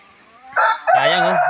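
A backyard rooster lets out a single loud, close crow that rises then holds, preceded by quieter clucking from chickens, with no voices present.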